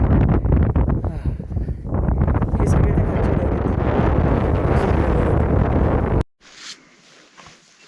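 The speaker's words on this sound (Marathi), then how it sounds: "वारा खूप जोरात सुटला आहे." Strong mountain wind high in the Himalayas on Deo Tibba roars and buffets the microphone in a steady heavy rush, with a few brief spoken words, before cutting abruptly to a much quieter gusty hiss.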